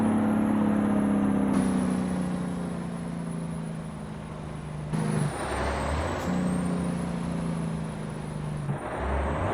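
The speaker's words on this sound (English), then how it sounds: "let's get the engine brake in here" A heavy Mack R Series truck engine in American Truck Simulator rumbles steadily, then drops into a loud, chattering engine-brake drone that cuts in and out in two long stretches.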